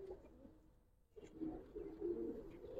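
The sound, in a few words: Giribaz pigeons cooing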